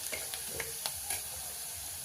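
Spices hit softened onions in a pan for a Maharashtrian farsan curry, giving a close, steady sizzle punctuated by several sharp stirring scrapes and clicks.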